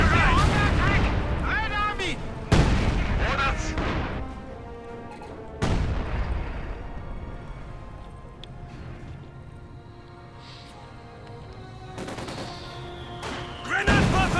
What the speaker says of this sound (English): The enemy is attacking one of our forward buildings. And bombarding the pack.